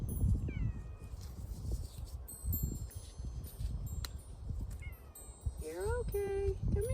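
A cat meows several times near the end, high rising calls over outdoor rustling and wind, with a person talking softly in the background.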